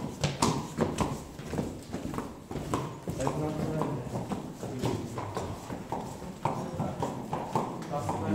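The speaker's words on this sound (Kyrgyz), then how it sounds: "Аттарды жындырып аткан экен жигиттер." Horses' hooves clip-clopping on a hard floor inside a stable, a close and steady run of uneven knocking beats with someone talking over them throughout.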